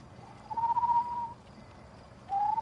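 A human voice imitates a cooing pigeon with two drawn-out, hooting coos separated by a pause, heard clearly over quiet background hiss.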